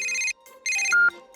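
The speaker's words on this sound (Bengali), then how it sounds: "আরে আবার কে ফোন করলো?" A telephone rings in short electronic bursts, two tonal trills separated by a brief gap, then a different beeping tone, clear and close with no talk.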